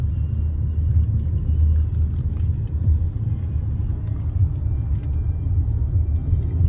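Mahindra Scorpio-N SUV on a test drive, heard as a steady low road rumble and engine drone from inside the cabin, continuous with no clear revving.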